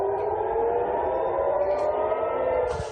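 Air raid sirens sound near Al-Aqsa Mosque during a rocket attack, a loud, steady, slowly rising wail that fills the whole stretch with a low rumble beneath it.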